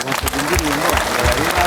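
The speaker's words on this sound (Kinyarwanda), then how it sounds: "mudutize amashyi tubashimire" An audience applauds at a choir concert, with dense, steady clapping filling the space, loud and continuous, while a voice speaks over it.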